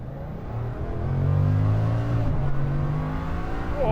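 A Bugatti Chiron Super Sport pulls hard from a standstill, its engine note climbing loud and close in a sustained, rising roar with a brief shift dip midway before building again.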